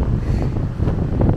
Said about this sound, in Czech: Mega naufouká vítr dneska.